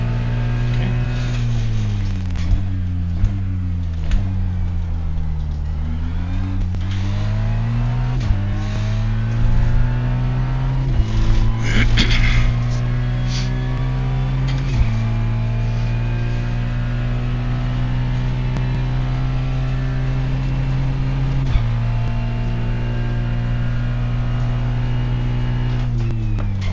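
A Ferrari 296 GT3 in a racing video game roars at close range, the engine note rising and falling through gear changes and revving over nearly half a minute.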